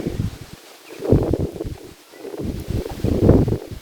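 Strong wind buffeting the microphone outdoors on a street in Kyiv, in heavy, uneven low rumbling gusts that rise and fall throughout.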